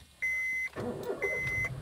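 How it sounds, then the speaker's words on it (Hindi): A 2013 Honda City with a 1.5-litre petrol engine cranks briefly and quickly catches, with a dashboard chime ringing before the crank and again as the engine settles into idle. "2013 होने के बावजूद भी ये कार क्रैंक लेने में कितना टाइम लेती है"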